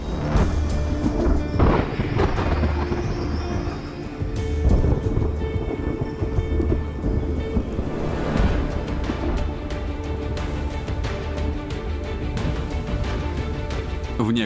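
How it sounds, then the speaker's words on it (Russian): Heavy rain pours steadily over a volcanic Indonesian island, with loud rolling thunder rumbling through throughout, dense and continuous with no voices. "и ситуацию ухудшают обильные осадки"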